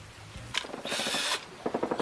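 A power drill whirs briefly into bamboo for about half a second, with knocks and scraping handling sounds before and after.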